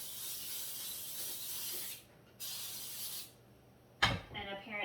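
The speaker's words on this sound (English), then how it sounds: "This says preheat the oven and butter your pan. And I'm just going to spray it over the sink." Cooking spray hisses onto a baking pan over a sink in two close bursts of about two seconds and one second, followed by a short clatter and brief talking.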